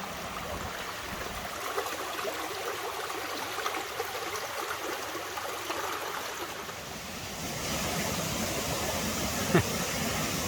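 Steady broadband rush of a fast-flowing mountain stream on Aran Fawddwy in Snowdonia, Wales, swollen after days of rain, continuous and fairly close, swelling slightly louder toward the end.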